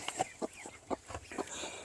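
A brooding Cochin hen on her nest clucks in a steady run of short, close, evenly spaced clucks.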